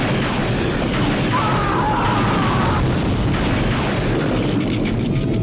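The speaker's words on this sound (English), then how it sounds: "I popped you with several cartoon bombs" Cartoon bombs bursting in the vehicular combat game Twisted Metal 4, a dense, continuous roar of blasts and crunching impacts filling the whole stretch at steady loudness, with a brief tonal whine partway through.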